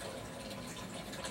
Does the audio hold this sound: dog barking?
no